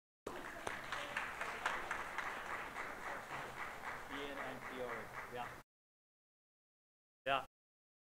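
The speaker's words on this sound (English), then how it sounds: "give them a round of applause" Audience applause at a Winnipeg School Division 150th anniversary celebration: steady clapping for about five and a half seconds with voices and cheering mixed in. It then stops abruptly, followed by a brief burst near the end.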